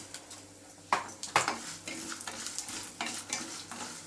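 Chana dal and urad dal are roasted in a pan while being stirred, giving a soft, continuous sizzle broken by scraping and clinks of the spoon against the pan, with no voices.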